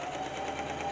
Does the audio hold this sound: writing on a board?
no